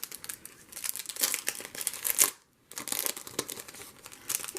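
Plastic wrapping on a Pink Deco Sticker package crinkles and tears as it is opened, a close, busy run of crackling that stops briefly for a moment of near silence, then resumes.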